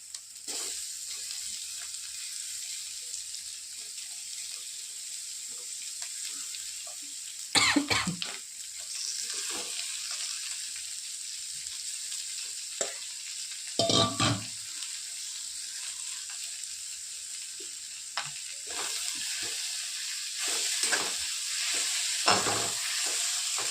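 Potatoes with turmeric sizzle softly in a pan, with a few sharp stirring scrapes and clatters breaking through the steady frying hiss; no talking.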